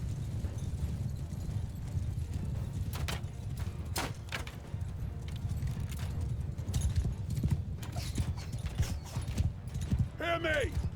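Horses' hooves gallop in a Mount & Blade 2: Bannerlord battle, a steady clip-clop drumming under dense combat noise, with voices shouting throughout.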